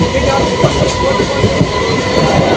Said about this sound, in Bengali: এগারোটা কুড়িতে ডায়মন্ড হারবার লোকাল আছে